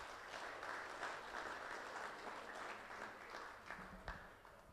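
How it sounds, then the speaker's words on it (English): A crowd applauds steadily at a Shorthorn cattle sale in Kentucky, a dense, sustained wash of clapping from many hands that fills the room without pause. "So everybody give them a round of applause,"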